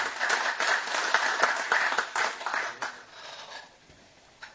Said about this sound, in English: Let's hear a louder round of applause for our Chief Minister.